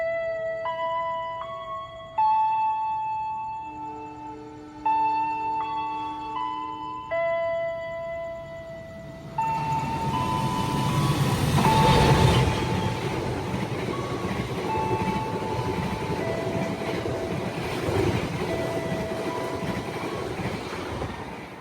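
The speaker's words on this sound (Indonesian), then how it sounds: "Di sana sinyal udah hijau, kereta Cirebon Fakultatif bakal lewat ya." A Cirebon Fakultatif passenger train rolls through an Indonesian station with a rising rumble and rattling wheels, loud and close, after a few tones from a station chime.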